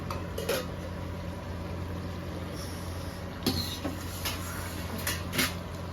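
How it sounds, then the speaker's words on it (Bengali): A lid being lifted off a pot of chicken curry cooking on a home stove, giving a few close metallic clanks and scrapes over a steady background hum. "তো আমাদের এখন ঢাকনাটা ওঠানো হবে।"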